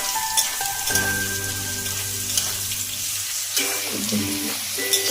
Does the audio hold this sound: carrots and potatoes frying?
yes